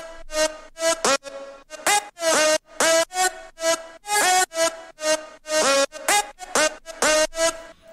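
An EDM bootleg drop played back in FL Studio, built from punchy rhythmic synth stabs and chords with hard bursts in a steady, choppy pattern, loud and close with no voice over it.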